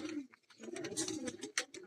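Pigeons on a rooftop loft, soft throaty coos and low warbling calls close to the microphone, with a few brief flutters and rustles over about two seconds.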